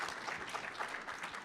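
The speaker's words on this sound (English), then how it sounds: "can applaud yourself." Audience applause at a political summit, a steady dense wash of clapping from a crowd that carries evenly through the short stretch without any voices.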